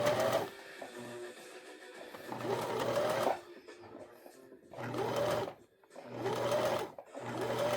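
A sewing machine stitches in several steady whirring runs, each lasting a couple of seconds, separated by brief pauses, loud and close with no speech over it.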